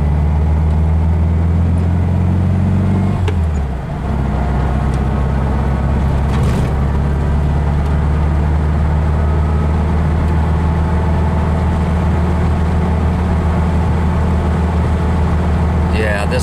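A Volkswagen with a Solex 34 PICT carburetor drives along the road, its engine a steady low droning hum heard from inside, with a gear change dip early on and then an even, smooth run.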